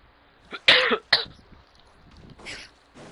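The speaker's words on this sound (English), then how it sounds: "Why am I coughing so much?" A person coughs close up in a rough, harsh burst of several coughs, followed by a throat clear and a softer cough after a pause, in an otherwise quiet room while playing a computer game.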